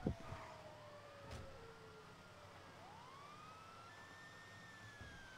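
Police car sirens wail in GTA V, faint and distant, with sweeping tones rising and falling over low street rumble and a few soft thuds.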